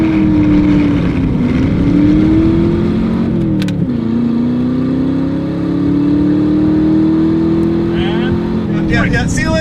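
Budget rear-wheel-drive car, a G35 or Mustang, launches hard from 3,500 RPM, its loud engine climbing in pitch through the gears with a brief shift dip, close and dominant, voices faintly under it.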